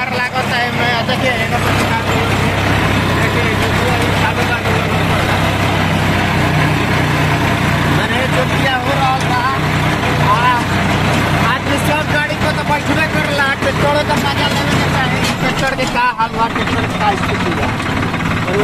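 A tractor ploughing a field for wheat and mustard sowing gives a steady, loud engine drone that runs continuously throughout, with speech over it.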